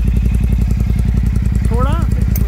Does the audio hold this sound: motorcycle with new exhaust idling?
yes